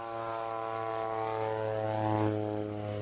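Steady propeller-driven aircraft engine drone, loud and close with a strong low hum and layered tones, holding throughout as the plane sets down on floating Arctic sea ice at a scientists' camp.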